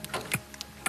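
Sperm whale echolocation clicks recorded underwater while the whales forage for food: a few sharp, faint, irregular clicks over a low background hiss.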